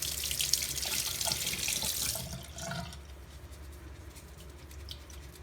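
Tap water runs steadily while a synthetic paint brush is rinsed, a soft close splashing stream that is busier at first and thins to a quieter trickle.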